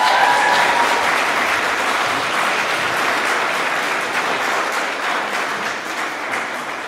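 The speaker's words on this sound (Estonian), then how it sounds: "palun siinkohal tehke nüüd aplaus" Sustained audience applause at a school graduation ceremony, dense steady clapping throughout that slowly softens, with no talk over it.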